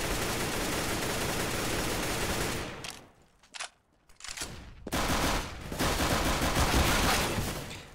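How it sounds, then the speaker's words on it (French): Dense automatic gunfire fills a competitive Counter-Strike-style match between TSM and mousesports at the Acer Predator Masters, with loud sustained bursts, a short lull of sparse shots, then heavy fire again. "c'était sous les balles de Dupré"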